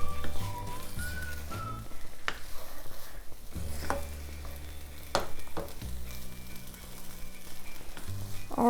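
A pot of veggie quinoa simmers covered on lowered heat, giving a steady close sizzle and bubbling hiss with a few sharp clinks and knocks of a lid or utensil against the pot.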